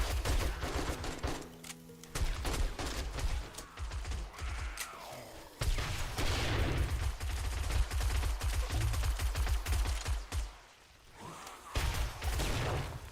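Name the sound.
gunfire at the horde in the video game 7 Days to Die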